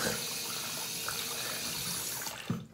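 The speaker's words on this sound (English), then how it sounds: "Now I'm gonna obviously wash my face." Tap water running steadily into a bathroom sink during an evening face wash, a continuous close splashing rush that cuts off near the end.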